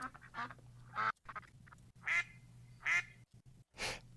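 Duck quacks played from a recording: a series of nasal, raspy quacks, about five or six in uneven bursts separated by brief silent gaps, over a steady low hum.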